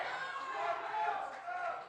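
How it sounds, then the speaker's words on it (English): A quiet crowd of spectators at a Pi Day pie eating contest livestream cheers and calls out, a distant blur of overlapping voices. "They need your cheering"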